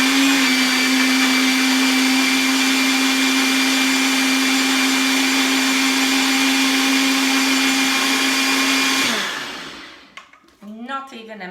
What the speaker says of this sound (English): And my blender is going to be loud.